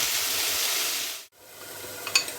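Asparagus sautéing in a hot pan gives a steady bright sizzle that cuts off abruptly, returns softer and ends with a few sharp stirring clinks.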